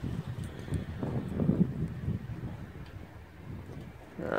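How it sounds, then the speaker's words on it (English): Wind buffets a microphone outdoors on a windy day in Utah, a low, uneven rumble that swells and fades, fairly quiet throughout. "Windy day out here in Utah."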